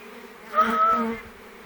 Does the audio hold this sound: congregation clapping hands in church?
no